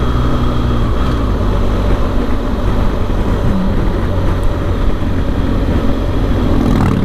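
A Harley-Davidson motorcycle on Willow Grove Road in Victoria, Australia produces a steady low engine rumble throughout, loud and continuous without a clear rise or fade, with no talking.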